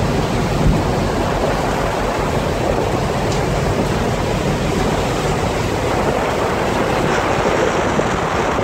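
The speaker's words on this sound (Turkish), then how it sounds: "Deniz görüyorsunuz. Deniz şahlanmış." Rough sea churns around a boat off Istanbul, a steady loud roar of surging and breaking waves mixed with wind, unbroken for the whole stretch with no voices.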